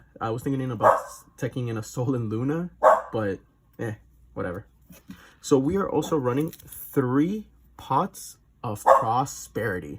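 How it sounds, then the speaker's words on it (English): A pet dog barks and yips a few times in the background, mixed under steady close talk from a man indoors. "That's my dog"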